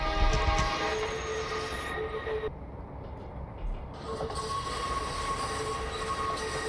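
A steam train in Train Simulator Classic rolls along steadily with a rumbling, clattering drive and faint high squeals, no voices.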